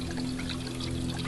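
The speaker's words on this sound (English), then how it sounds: "get some water in here." Water pouring steadily into a metal canteen held outdoors, a continuous close trickling splash with a faint ringing tone beneath it.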